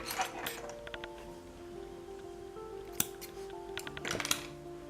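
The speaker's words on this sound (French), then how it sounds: "on va couper le fil." Scissors snip crochet thread while a button bootie is assembled, with a few quiet metallic clicks and squeaks of the blades, a sharper snip near the three-second mark and another cluster toward the end.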